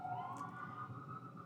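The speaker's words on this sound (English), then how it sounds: "And I'm sorry for the sirens there." Emergency vehicle sirens pass by outside, a steady wailing tone that holds throughout at moderate loudness with no talk over it.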